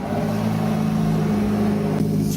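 A Porsche 918 engine in the Driving Empire racing game idles with a steady low drone and a brief rise near the end, with no talking.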